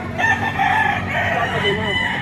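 Rooster crowing at a chicken market in Lipa, Batangas, a loud drawn-out crow rising and falling close by, with clucking around it and no talk.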